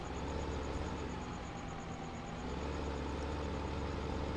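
A tractor engine idles steadily in Farming Simulator 15, a continuous low rumble with a faint high whine, holding even and unbroken throughout without talk.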